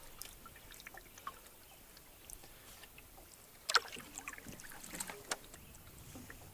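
A canoe paddling across a wilderness lake in Sylvania Wilderness, with quiet water dribbles and soft paddle strokes, a few sharper splashes and knocks midway, no talking.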